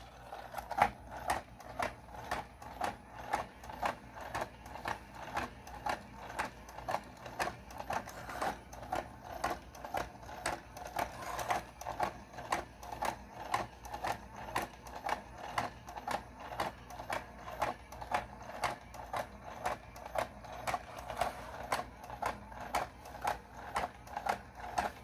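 A four-legged Star Wars Gonk (PLNK) droid toy running on 5 volts walks steadily, its motor and gears giving a fast, even mechanical clatter that repeats throughout, close and alone.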